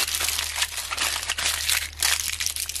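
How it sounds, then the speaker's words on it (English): Crinkly wrapping of homemade mushroom chocolates, a steady close rustle and crumple of wrapper material with small bursts, alone over a low background hum. "what you want to do is just wrap it up"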